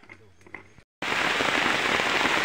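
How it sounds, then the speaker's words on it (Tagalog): Sudden heavy downpour hammering a surface outdoors while copra is being processed, a dense roaring wash of rain that cuts in abruptly after a brief moment of quieter sounds and silence. "Uy, lakas ng ulan."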